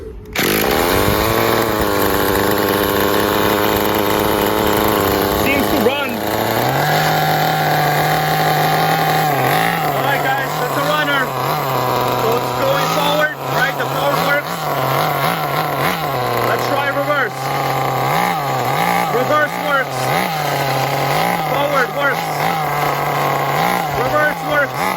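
Tamiya Terra Crusher two-speed nitro RC truck engine runs continuously and loudly, its high buzzing pitch rising and falling with revs, while people talk over it.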